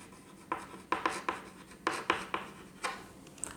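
Marker or chalk writing on a board during a physics lesson, a run of short, quiet scratchy strokes in an uneven rhythm, close by, with no talk.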